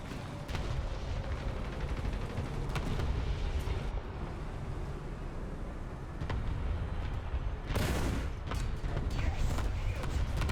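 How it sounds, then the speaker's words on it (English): Friendly artillery rounds slam down on a light tank in War Thunder, in a British 3.3 tank battle. A dense, rumbling barrage keeps up throughout, and a sharper, louder blast hits near the end. "We'll send some friendly artillery on him."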